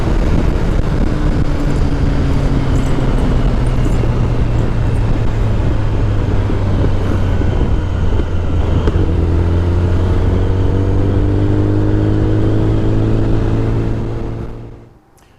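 A Kawasaki ZX-10R sport bike cruises at 100 km/h with engine braking engaged, its loud steady engine drone and shifting tones joined by strong wind rush, then cutting off abruptly at the end.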